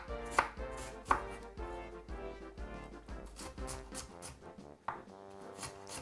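A knife chops white onion on a board in a Jamaican fried salt fish kitchen, giving quick close rhythmic taps with a few sharper hits, alone and fairly quiet.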